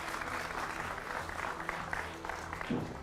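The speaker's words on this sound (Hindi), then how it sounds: "जोरदार तालियों से स्वागत।" A studio audience at a televised Hindi news debate applauds to welcome guests, a fairly faint, continuous patter of clapping that runs steadily for about three seconds, heard alone without talk.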